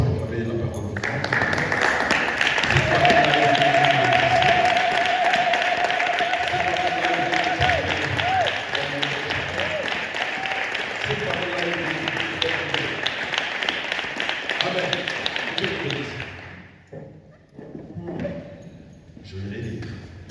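A Sunday-service church congregation applauds, making loud, sustained clapping and cheering that fills about sixteen seconds before cutting off. Voices remain underneath the applause.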